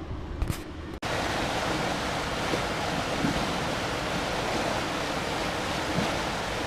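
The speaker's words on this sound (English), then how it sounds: "That's crazy water." Loud, steady rush of water pouring through Belleville Locks and Dam on the Ohio River, a dense roar that starts abruptly after a second of quieter wind and continues unbroken at close range.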